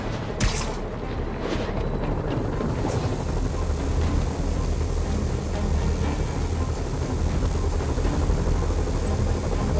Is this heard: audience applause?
no